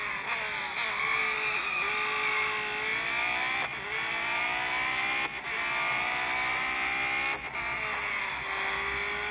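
A Porsche 919 Hybrid Evo race car in a racing video game, its high-pitched engine whine running loud and steady, climbing through gears with brief dips at each shift, with no voices over it.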